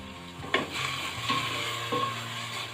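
Lemongrass and chilies stir-frying in a hot pan in a Thai kitchen, a steady sizzle broken by a few scraping stirs, close and moderately loud, with no talking.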